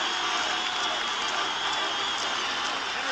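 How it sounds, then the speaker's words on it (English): A raucous crowd roars at Yankee Stadium during a 1980 playoff baseball game, a steady, distant wash of cheering and noise that holds level throughout. "The raucous crowd at Yankee Stadium."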